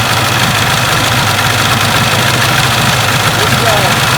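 An old 1962 Johnson 75 hp outboard engine runs loud and steady close by. Its uneven, slightly rough rumble continues without pause throughout.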